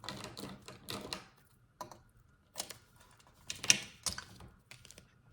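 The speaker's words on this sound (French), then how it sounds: "je vais reprendre mon rouleau adhésif et je vais venir mettre de l'adhésif sur cette partie au centre" Adhesive tape is torn from a roll and pressed onto the centre of a handmade tea box, giving quiet, close, crackly bursts of peeling and rubbing separated by short pauses.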